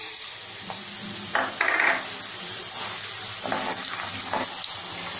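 Peanuts, mustard seeds, chana dal and urad dal roast on a low flame in a pan for puliyogare, giving a steady soft sizzle with scattered crackles and a few stirring scrapes.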